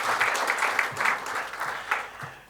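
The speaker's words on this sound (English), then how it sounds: "a big round of applause to both the officials" A room full of people claps for officials at a GST open house interactive meeting held by FTCCI; the steady applause swells and eases in waves for a couple of seconds.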